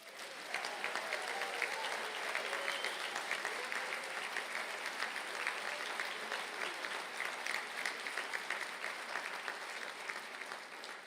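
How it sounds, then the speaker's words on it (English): Sustained applause from a large audience at a university conferring ceremony in Galway, steady dense clapping that fills the whole stretch without letting up. "I think that deserves a round of applause."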